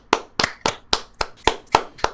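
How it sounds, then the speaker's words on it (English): Nine sharp hand claps in a steady, quick rhythm, close and fairly loud, with no talking, as a small audience applauds a guest at an early-morning live stream. "Let's give him a round of applause."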